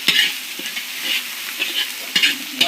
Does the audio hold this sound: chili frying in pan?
yes